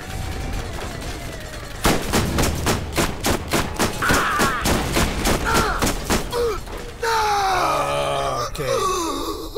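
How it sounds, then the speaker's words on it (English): Borderlands video game combat: rapid bursts of gunfire hammer in a steady rhythm, then a heavy grenade explosion booms near the end, with grunts and groans mixed in. "Grenade out."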